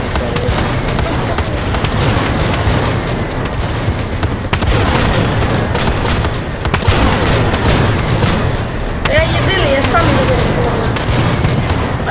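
Tank cannons fire in the Total Tank Simulator video game, with booming shots and explosions over a constant battle din while people talk excitedly throughout.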